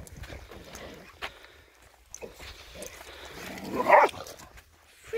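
Dogs bark a few times on moorland during an outdoor run, the sharp calls close but fairly quiet, over wind and footsteps.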